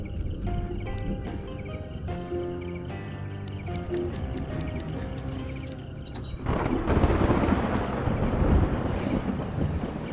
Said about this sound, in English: someone may get struck by lightning here in this thunderstorm.